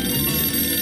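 A telephone rings briefly and steadily in the Sam and Max video game, a short electronic bell tone that sounds alone and fairly loud.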